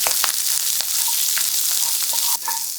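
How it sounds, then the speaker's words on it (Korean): Shishito peppers stir-fried in a pan with garlic and ginger give off a steady broadband sizzle, with a few sharp scraping stirs of the utensil against the pan standing out along the way. "꽈리고추를 모두 넣고 골고루 휘저어서 30초 정도 볶아주세요"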